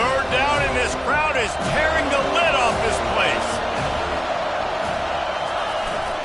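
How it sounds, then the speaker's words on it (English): A football stadium crowd at a Florida versus FSU game roars steadily on third down, a dense wall of noise with an announcer talking over it. "Third down, and this crowd is tearing the lid off this place."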